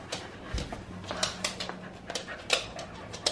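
A Boston terrier in a home kitchen area gives soft, broken whimpers and faint whines mixed with light clicks and scuffles, fairly close and quiet, no talk.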